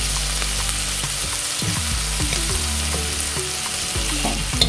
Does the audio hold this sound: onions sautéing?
yes